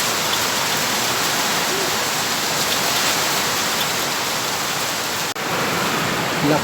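Heavy downpour at a small chicken farm, a dense, loud, unbroken hiss of rain pounding surfaces close by, with no speech.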